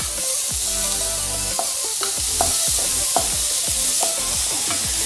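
Mushrooms deep frying in oil fizz with a constant close sizzle, broken by repeated metallic clinks and scrapes of a stirring utensil against the pan.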